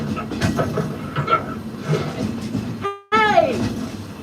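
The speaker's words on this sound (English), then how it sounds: "Oh, Peter, That's not a snake. It's a train." A train on a Magic Kingdom ride rumbles and clatters, and its horn sounds in a bright whistle-like blast near the end, mixed with busy park noise and voices.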